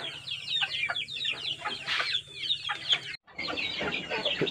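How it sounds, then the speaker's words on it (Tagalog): A flock of hungry backyard chickens clucks and squawks restlessly while waiting for feed, a busy, overlapping chorus of fairly close bird calls with a brief gap partway through. "Grabe, mga gutom na ang mga manok natin."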